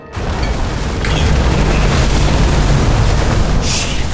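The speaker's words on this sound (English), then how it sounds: "Fuses just blew." Fuses blowing in a video game, a loud sustained booming burst of electrical noise that fills the whole moment, with no voices.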